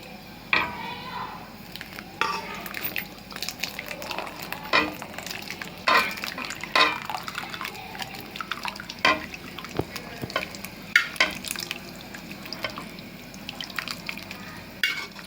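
Boiled papdi (flat beans) going into a hot pan for Surati papdi muthiya shaak and being stirred: a steady sizzle beneath repeated sharp scraping clinks of a spoon against the pan, close and fairly loud, with no talking.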